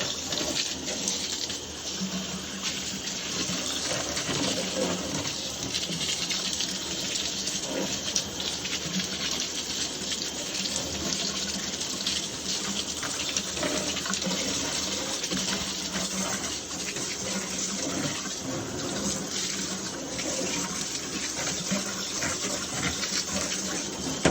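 Steady, continuous spray of water rinses greasy wire wheels after cleaning, a dense hiss at even loudness throughout with no pauses.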